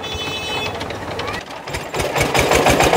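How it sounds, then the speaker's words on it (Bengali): A rice-flour pitha making machine running with a steady, loud mechanical rumble and rapid rattling knocks, growing busier partway through, with voices talking over it. "এইটা দেখেন এখন মেশিন স্টার্ট হয়ে গেছে, এখন চাউলটা দিব এর ভিতরে।"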